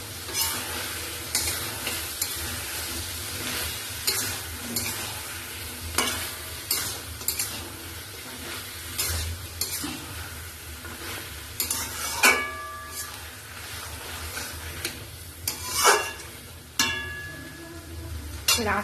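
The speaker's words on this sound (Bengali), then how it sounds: "আস্তে করে করে কষাবো।" Mutton curry is slowly fried and stirred in a pan: a continuous close sizzle with repeated scraping strokes of a spoon and occasional sharp metallic clinks against the pot.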